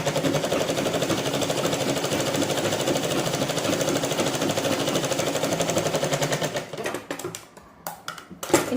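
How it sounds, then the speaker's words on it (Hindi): A sewing machine runs steadily, stitching the side seam of a blouse in a fast, continuous whir that stops near the end, leaving a few faint handling clicks. "ये देखिए अब मैं साइड वाली सिलाई भी लगा दूँगी"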